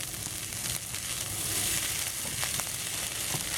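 Rice is stir-fried with Chinese pork sausage, giving a constant loud sizzle in the pan with light scraping and tossing sounds on top, close up and without talk.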